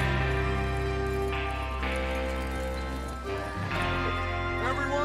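Horses in Red Dead Redemption 2 moving off together, hooves clip-clopping in a steady rhythm beneath a low rumble and voices talking over the ride.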